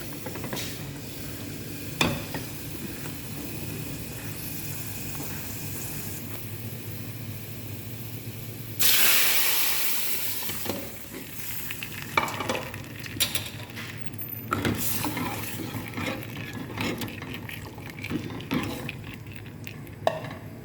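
Nigella seeds hit hot oil over dal with a sudden burst of sizzle that hisses on steadily, mixed with stirring, scattered clinks of utensils against the pot, and a low background rumble.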